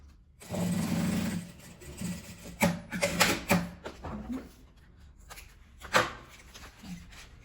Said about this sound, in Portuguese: você dobra, meio centímetro, abraça e passa a costura